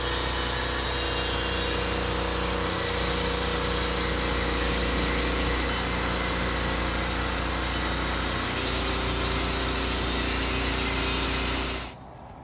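A power saw rips lengthwise through a large white oak timber for a timber frame shed, a loud, steady close-up roar of blade and motor that cuts off abruptly at the end.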